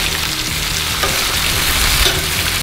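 Bacon strips frying on a Blackstone griddle, a loud, dense and steady sizzle with fine crackling throughout, close up and without voices.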